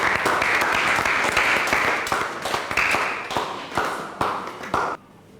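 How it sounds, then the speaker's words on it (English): An audience at a school selections ceremony claps together in brisk, dense applause for about five seconds before it stops abruptly. "Shall we clap for them as they take their seat?"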